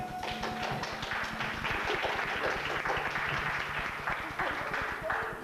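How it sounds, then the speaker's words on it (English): An audience in a performing arts theater applauds a poet with a warm, steady round of dense clapping that holds at an even level for several seconds, with a faint voice underneath. "like a warm round of applause for poet, historian, and cat fancier, Mr. Donald Riley."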